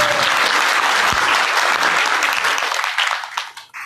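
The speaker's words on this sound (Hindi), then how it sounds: "एक बार जोरदार तालियां" An audience at a Krishna Janmashtami religious gathering gives loud, close applause to welcome a visiting guest; the clapping is dense and sustained, then thins and fades out near the end.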